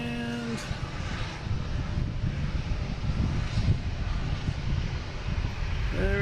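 A KLM airliner climbs away from Boston Logan, a steady broadband engine roar at moderate distance with a brief tonal chirp at the start and end, no voices over it.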